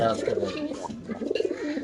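Domestic racing pigeons coo at a pigeon sale, in soft rolling bursts near the start and again past the middle, close by and under a busy murmur of people talking.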